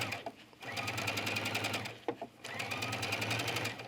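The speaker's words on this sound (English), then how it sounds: "Go ahead and do a back stitch, and then stitch all the way around." A sewing machine stitches a cuff onto a sleeve at stitch length 5.0 with rapid, even needle clatter, stops briefly for a back stitch, then runs steadily again up close.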